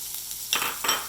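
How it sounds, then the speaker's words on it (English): Chopped onions hitting a pan with cinnamon stick and cloves for cauliflower makhani masala, two short bursts of sizzle and stirring scrapes about a second apart over a faint background hiss. "Now we are going to add the chopped onions"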